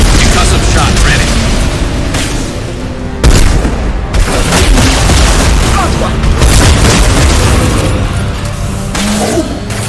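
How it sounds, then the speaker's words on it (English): Concussive shot ability firing in Mass Effect 2 amid loud, continuous combat booms and gunfire, dense and heavy throughout with sharp blasts near the three-second mark. "Concussive shot ready."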